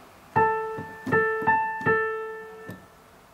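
Piano plays a short phrase from a theme from The Giver with both hands together, sounding sustained chords and melody notes in a long-short-short-long rhythm, clear and close with no talking.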